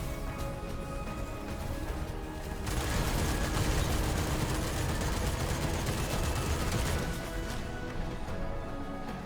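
Dense, continuous video-game gunfire with sniper rifles in play, a loud, unbroken wash of rapid shots and crashes that swells louder in the middle and stays near and busy throughout.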